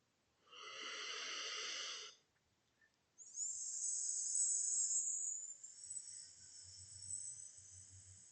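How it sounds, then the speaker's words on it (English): Voice-training hissing breath exercise for the diaphragm: a sustained sharp hiss, a pause, then a longer high hiss that trails off, quiet and close with low breathy undertones. "Let's remember how we do that specific hissing breathing that trains the diaphragm."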